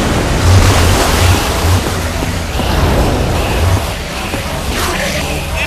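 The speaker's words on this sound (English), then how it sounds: "I don't know how much water this thing is going to kick out" Water gushing out in the Minecraft video game, a loud, continuous rushing roar like heavy surf with a blustery, wind-like texture that swells and eases slightly throughout, close and with no one talking.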